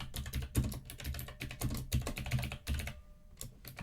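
Rapid typing on a computer keyboard, steady clusters of close, crisp key clicks with brief pauses between bursts.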